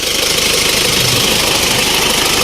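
A used Isuzu Dragon pickup engine runs loud and close with a steady, rough, vibrating drone as the throttle is held, with no clear rise or fall in pitch.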